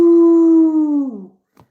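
A voice imitates a wolf howl: one long, sustained, tonal note that holds steady and then slides downward and fades, loud and close, followed by a faint brief breathy sound.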